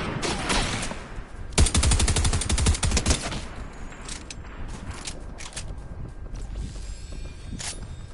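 A PS4 shooter lets loose a loud, rapid burst of automatic fire lasting over a second, followed by sparser single shots and mechanical clicks against constant background noise.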